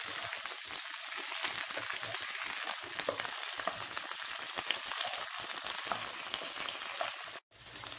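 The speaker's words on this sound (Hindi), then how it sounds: "भिंडी को मैंने 3 से 4 मिनट के लिए फ्राई कर लिया है।" Okra frying in a pan, a steady dense sizzle with crackling pops running continuously and close, with no voices.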